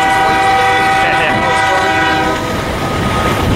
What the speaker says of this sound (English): there's a coal train coming down the pass